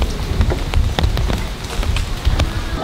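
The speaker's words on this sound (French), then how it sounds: "Voilà, maintenant il pleut." Rain falls at night in Tokyo, a dense, steady patter of drops striking nearby surfaces, close and fairly loud with no talking.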